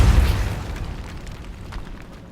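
Incendio fire spell cast in Hogwarts Legacy, a loud whooshing burst of flame with a deep boom at the start that trails off into a crackling rumble.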